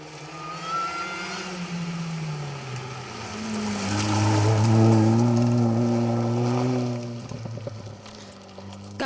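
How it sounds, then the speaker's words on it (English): Rally cars on a forest special stage of the Cambrian Rally, an engine approaching with rising revs, roaring loudest at mid-clip as it passes close, then dropping away with gear changes and a sharp burst at the end. "to finally hear the cars coming through the forests"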